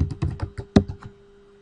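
Keys clatter on a computer keyboard as a password is typed, a quick run of close, crisp clicks that thins out toward the end, with no voices.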